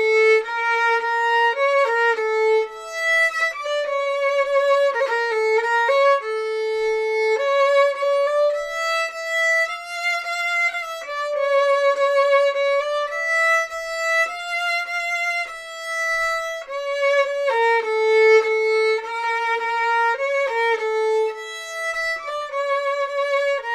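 Solo violin plays the Aunt Rhody Goes to Arabia melody variation, clear bowed notes moving stepwise with a few held tones, played steadily and close without accompaniment.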